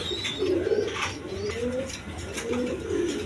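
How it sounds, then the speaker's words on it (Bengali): Pigeons for sale at a market coo repeatedly in low, rolling throaty calls, close and clear, overlapping with one another against a light background murmur. "একদম ফ্রেশ কবুতর"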